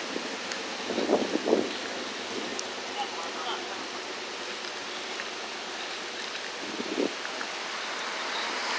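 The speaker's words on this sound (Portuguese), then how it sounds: "Deus mandou a chuva" Steady rain falls on a burning car, a constant even hiss that runs through the whole stretch. A couple of brief voices break in near the start and again near the end.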